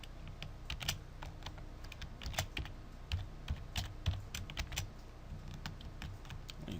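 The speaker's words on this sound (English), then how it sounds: "So I'm gonna type font." Typing on a computer keyboard: close, irregular bursts of light key clicks tapping steadily throughout with no talking.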